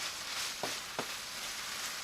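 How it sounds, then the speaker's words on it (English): Beef, garlic and spinach fry in a pan over low heat, giving a soft constant sizzle with two brief scraping stirs partway through and no talk. "as this is frying down a little bit, it's going to continue to fry the garlic and everything in there"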